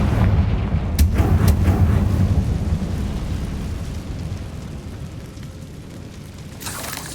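A single Confringo fire spell from Hogwarts Legacy strikes with a sudden crack followed by a deep, rolling rumble that fades over several seconds, with a few faint crackles scattered through the ambience.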